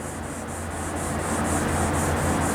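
A sanding pad rubs back and forth over wet car paint while removing key scratches, giving a close, steady hiss with even rhythmic strokes roughly four times a second and no talking.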